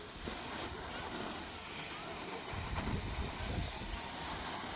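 A garden hose sprays water onto a vehicle in a steady, continuous hiss, fairly close, with no pauses, washing off road salt.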